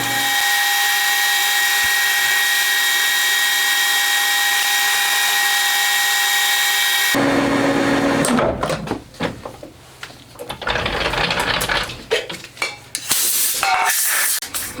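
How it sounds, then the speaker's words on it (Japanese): A lathe bores out a homemade crankcase for a 125cc four-cylinder 16-valve engine, a steady high-pitched machine whine giving way to irregular scraping and clattering cutting noise, close and loud with no voices. "ドリル加工が終わったら中ぐりを所定寸法までどんどん進めていきます"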